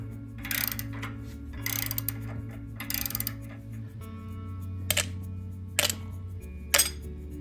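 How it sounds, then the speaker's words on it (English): A socket wrench works an inner flange nut off a bolt while a bull bar is fitted to a Toyota FJ Cruiser, giving bursts of quick ratcheting clicks followed by single sharp clicks, close up over a steady low hum. "turn the socket wrench to get that inner flange nut off the bolt"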